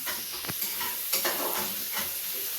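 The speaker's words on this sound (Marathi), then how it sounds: "कांदा कसा गोल्डन गोल्डन नाही थोडासाच फक्त मऊ होईपर्यंत त्याला फ्राय फ्राय करायचं" Onion frying in a pan, cooked just until soft for egg Maggi, with a steady sizzle and a few scraping stirs.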